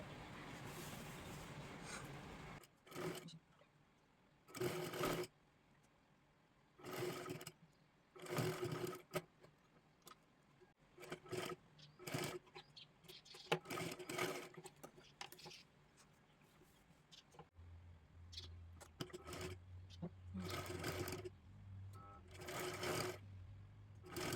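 A sewing machine stitches lace onto a blouse in repeated short bursts of rapid whirring separated by pauses, fairly faint and close, with a low hum beneath the later runs.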